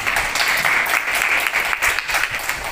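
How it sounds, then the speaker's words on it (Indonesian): An audience at an Islamic funeral-preparation training session applauds continuously, dense steady clapping from many hands with no talking heard. "Berikan tepuk tangan lah."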